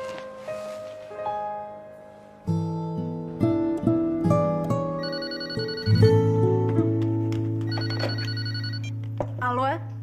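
A telephone bell rings in a Brazilian telenovela scene, with a repeated ringing pattern sounding over background music and some voices throughout.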